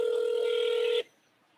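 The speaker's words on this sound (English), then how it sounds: "That's just ringing." A steady electronic telephone ringing tone sounds for about a second, then cuts off abruptly into near silence.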